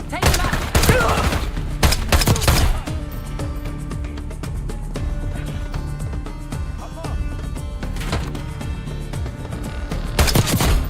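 Gunfire in the Call of Duty: Black Ops 6 single-player campaign: loud bursts of shots in the first three seconds and again near the end, with a steady game soundtrack humming between them.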